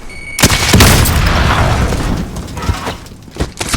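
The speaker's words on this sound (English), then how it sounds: "Throwing grenade." A frag grenade explodes in Call of Duty: Warzone, a loud close blast with a sharp onset, followed by a long rumbling roar and scattered debris cracks and pops.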